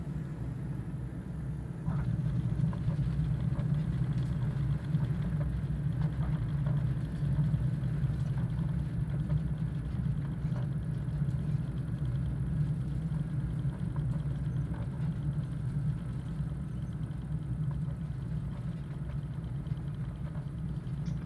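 The engine of a Diamond DA40NG aircraft in a flight simulator idles as a steady, low drone. It holds at an even level throughout, with no voices.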